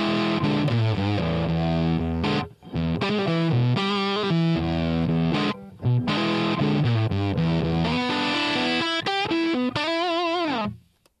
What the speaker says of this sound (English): we're just getting the Plexi amp, and I think we'll just record this